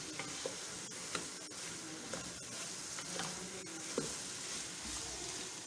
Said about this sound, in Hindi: थोड़ा सा इसको भून लेते हैं मटर को। चूल्हे की आंच फुल है।